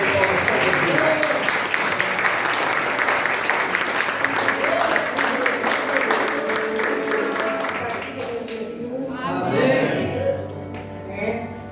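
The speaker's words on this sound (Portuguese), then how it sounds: "Vamos receber a serva do Senhor com uma forte salva de palmas para Jesus." Church congregation clapping loudly together for a woman invited up to preach, a dense sustained round that thins out, followed by a voice speaking alone near the end.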